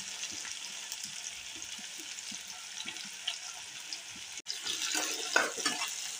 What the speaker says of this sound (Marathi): आता मी याच्यामध्ये बारीक चिरलेला कांदा टाकते।